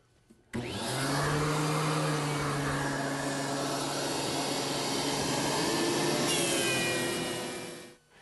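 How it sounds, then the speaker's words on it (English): A planer runs loudly and steadily for about seven seconds, planing cherry boards in a woodshop, with a harsh whine and a sharp rise in pitch near the end before it winds down. "So we'll make some cuts here and plane down all the cherry that I need for this project."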